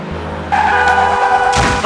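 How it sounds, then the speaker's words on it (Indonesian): A car brakes suddenly in a street scene. A brief low engine sound gives way to a loud, close tire squeal and skid lasting about a second. "tiba-tiba mobil kamu ngerem di depan saya"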